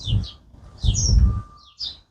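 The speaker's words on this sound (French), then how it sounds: "On entend même les oiseaux ici." Songbirds chirp near a leisure centre along a street, short bright tweets arriving in three bursts over a low rumble of passing traffic or movement.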